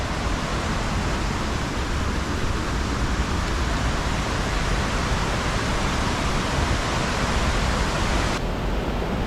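Galboda waterfall near Nawalapitiya, running with plenty of water, pours out a steady, dense roar, loud and unbroken for the whole stretch with no voices.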